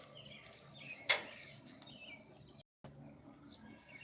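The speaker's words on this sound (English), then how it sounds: "I'm outside and the birds are having a wonderful time" Outdoor ambience with a single sharp bird chirp standing out above a soft, steady background hiss and distant faint calls.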